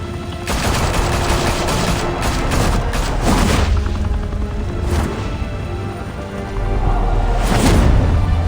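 Sustained, loud gunfire from Batman: The Telltale Series, dense rattling bursts and booms that keep going for several seconds and swell near the end, with no talk.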